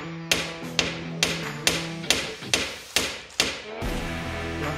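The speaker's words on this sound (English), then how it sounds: "all we got to do is hit each piece with a hammer and see what happens" Seven sharp hammer blows strike a lump of lead, evenly spaced taps with a dull metallic thud, close and fairly quiet, each dying away quickly before the next.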